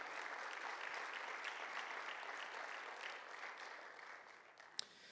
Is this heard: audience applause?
yes